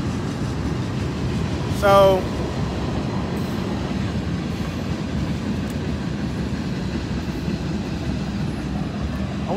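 A train rumbles past steadily outdoors in a low, continuous roar lasting the whole stretch, with a brief horn-like tone near the start and a single spoken word over it.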